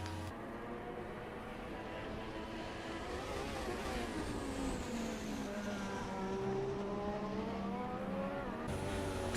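Formula One car on a soft-tyre qualifying lap in the F1 2016 game, a loud high engine whine rising and falling through the gears, steady and continuous with no talk.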